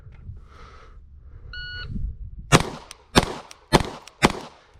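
A shot timer beeps, then a Glock 45 pistol fires four sharp, loud shots in a steady rhythm about half a second apart at an outdoor range drill.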